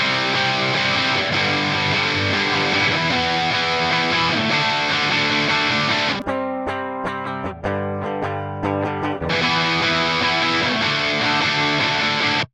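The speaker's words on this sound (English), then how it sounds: "we had the classic distortion preset, which is just that classic tube screamer into a high gain amp" Distorted electric guitar power chords ring out thick and loud through a classic tube screamer pedal into a high gain amp, sustained for several seconds, then a choppy stop-start riff, then held chords again.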